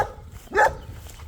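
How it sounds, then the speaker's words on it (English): A single sharp bark from a dog kept near sheep, close and loud against a quiet outdoor background. "What are you barking at?"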